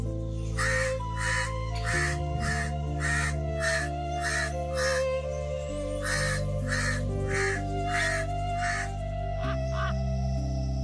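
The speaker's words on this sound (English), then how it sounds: "Crow." A crow caws in a repeated series of harsh calls, roughly a dozen caws in uneven groups, clear and fairly close, with no other voices.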